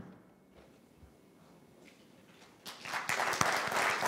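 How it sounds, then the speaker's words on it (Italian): Conference audience at an economics festival presentation in Milan breaks into applause after a quiet stretch, the clapping rising abruptly and continuing full and steady to the end. "l'applauso sottolinea il fatto che vi è piaciuto questo video"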